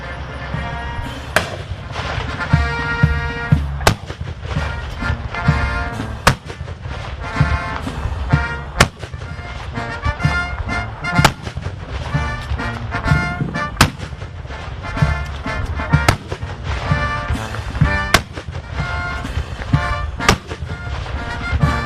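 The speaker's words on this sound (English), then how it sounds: "Providing today's salute is the Fort Sill Salute Battery, Bravo Battery, 2nd Battalion, 2nd Field Artillery" The Fort Sill Salute Battery, Bravo Battery, 2nd Battalion, 2nd Field Artillery, fires an artillery gun salute at a change of command ceremony: about nine sharp, loud booms at a steady interval of a couple of seconds, under continuous band music.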